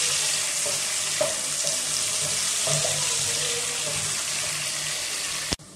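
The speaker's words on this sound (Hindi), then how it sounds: "अब इसमें हम डालेंगे दो अदद प्याज बरीक कटे हुए अब इसको ब्राउन कर लेंगे" Finely chopped onions fry in a wok for chicken biryani, making a continuous loud hiss and sizzle with a few faint stirring knocks and a sharp metallic clank at the end, with no talk.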